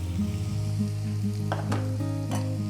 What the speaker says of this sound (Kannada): ಈಗ ಮತ್ತೆ ಇವೆಲ್ಲವನ್ನು ಮಿಕ್ಸ್ ಮಾಡಿಕೊಂಡು ಫ್ರೈ ಮಾಡ್ಕೋಬೇಕು